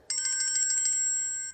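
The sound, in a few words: school bell ringing to start classes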